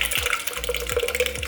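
Sparkling water runs steadily from a tap close by, a continuous splashing hiss with small gurgling bursts.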